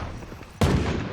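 Gunfire in the Valorant video game: a sharp, loud shot bursts in halfway through, followed by a sustained loud crackle of shooting, with quieter game noise before it.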